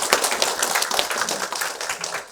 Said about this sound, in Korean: 우리 학부모님들 위해서도 같이 좀 박수를 좀 치겠습니다